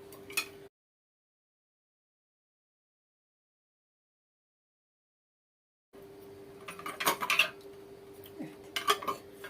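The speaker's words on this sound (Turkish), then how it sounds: "Hemen şimdi sıcak sıcak kapaklarımızı kapatıyoruz." Lids screwed by hand onto hot jars of home-canned peas, with a burst of metallic clinks and scraping twists near the end, following a long silent gap, over a steady low hum.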